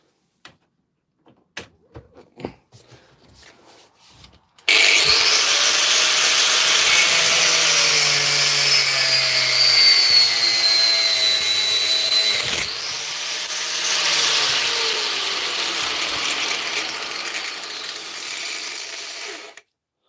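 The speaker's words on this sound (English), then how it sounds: "we'll plug in the grinder and see what happens" An angle grinder fitted with a Parkside disc starts after a few faint knocks and runs loudly and steadily for about fifteen seconds, its whine shifting slightly under load before it winds down and stops.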